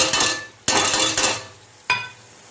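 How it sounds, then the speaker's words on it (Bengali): A utensil scrapes and stirs a ground spice paste with turmeric and red chilli powder in a cooking pan, giving three loud scraping strokes with clinks of metal against the pan. "ভালো করে একটুখানি নেড়ে নিতে হবে মশলাটাকে।"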